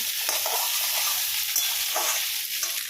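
Potatoes frying in a pan over a wood-fired stove and being stirred, a steady sizzling hiss broken by occasional scraping strokes of a spoon, close and moderately loud.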